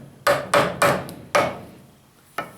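A part of a vise is tapped into place with a hammer, giving four sharp, loud knocks in an uneven rhythm, then a short pause and another tap.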